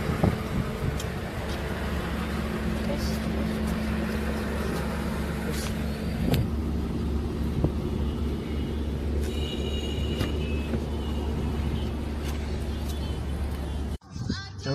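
A Mercedes S65 AMG is driven and pulls away, heard from inside as a steady low rumble of engine and road noise with faint clicks and rattles, ending in a brief thump.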